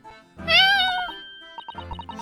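One drawn-out, loud cat meow in The Great Ace Attorney Chronicles, followed by faint, soft game tones and clicks.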